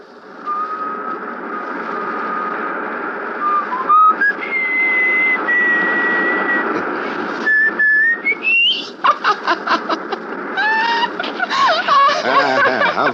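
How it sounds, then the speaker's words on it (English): A man whistles a tune loudly and close, long sustained notes sliding between pitches before turning into quicker, warbling phrases, with no speech over it. "Can you whistle? Sure. Whistle."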